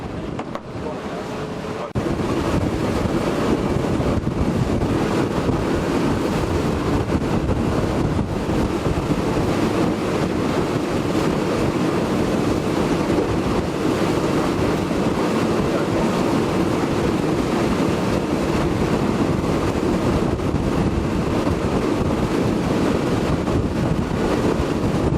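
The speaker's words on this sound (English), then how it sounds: "It surprised me a little bit about how choppy it can get out here, and with that comes the wind" Strong wind buffets the microphone over choppy waves slapping a boat on Lake Argyle, a steady, loud roar of gusts and surf that runs unbroken throughout.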